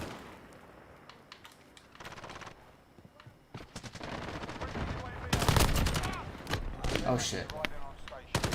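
Rapid automatic gunfire from a gun in a video game, sharp repeated bursts growing louder toward the end, with a player talking and cursing over the shots.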